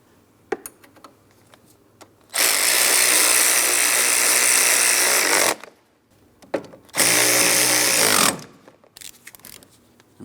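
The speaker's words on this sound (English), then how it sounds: "I'm going to snug up each one of my two pieces of hardware here" A power ratchet snugs the two radiator mounting bolts on a 2004-2008 Pontiac Grand Prix 3.8L V6, running in two loud sustained bursts of about three seconds and one and a half seconds, with a few light clicks and knocks between.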